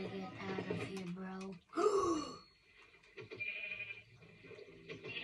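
Sheep bleating in the game Minecraft, a few short wavering bleats among a busy mix of voices talking over game sounds.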